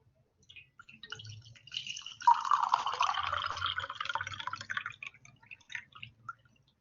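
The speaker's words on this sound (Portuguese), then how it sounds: "é só derramar água na xícara." Water is poured into a cup of finely crushed garlic to make tea: a soft, close trickle and splash that swells in the middle and then tapers off, with no talking.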